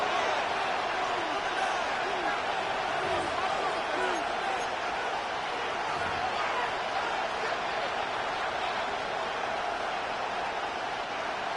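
Stadium crowd noise in the Madden NFL 26 football video game during a third-down defensive stand: a steady, dense roar of cheering that holds at an even level throughout, with no talk heard over it.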